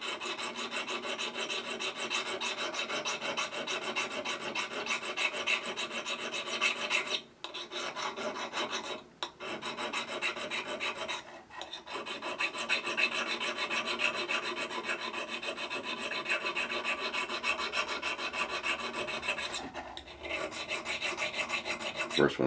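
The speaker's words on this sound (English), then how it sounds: "Of course, when I say needle file, I'm talking diamond needle file." A diamond needle file scrubs back and forth over a gouge, a loud, close, continuous rasping with only a few brief pauses.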